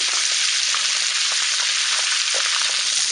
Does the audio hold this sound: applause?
no